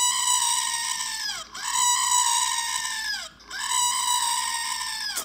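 A goat nicknamed Dusty screams three times in a row, each a long, loud, nasal wail that bends downward at the end, with brief gaps between the cries and no talking over them.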